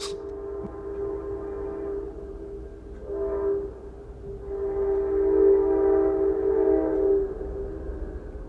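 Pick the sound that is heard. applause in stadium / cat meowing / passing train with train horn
passing train with train horn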